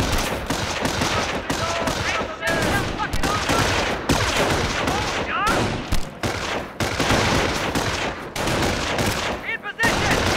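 Heavy gunfire in the World War II strategy game Company of Heroes: dense, continuous overlapping rifle and machine-gun shots with occasional heavier booms, loud and near, with voices calling out between the shots.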